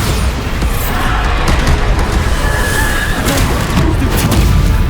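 Loud, sustained blasting from a Bombarda spell during combat in Hogwarts Legacy on PS5, a dense rumbling roar of overlapping booms with no clear gaps, close and continuous throughout.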